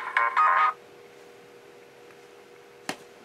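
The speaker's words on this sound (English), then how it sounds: "That's the ringtone from Luigi's Mansion Dark Moon." Short electronic ringtone melody from the video game Luigi's Mansion: Dark Moon, played from a phone: a bright tonal burst at the start, then quiet, with a brief click near the end and no talk.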